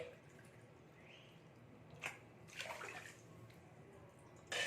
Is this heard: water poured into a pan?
yes